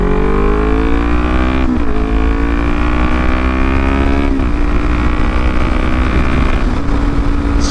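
A Kawasaki Ninja 400 motorcycle engine drones loud and steady while merging onto a freeway, its pitch climbing through the gears with brief dips at each shift and a constant wind rush underneath.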